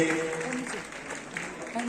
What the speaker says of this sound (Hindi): तालियां बजती रहनी चाहिए हमारे माननीय चीफ गेस्ट के लिए।